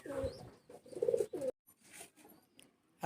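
Pulsar breed racing pigeons in a loft give soft, low coos in two short bursts, followed by a quieter stretch of faint rustling.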